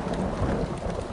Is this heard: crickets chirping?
no